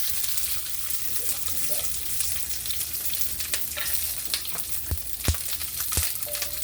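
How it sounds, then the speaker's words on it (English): Onions hit a smoking-hot skillet for sweet and sour pork, a close, continuous sizzle with a few sharp clicks and scrapes of stirring over it. "Okay, so I'm gonna throw my onions in."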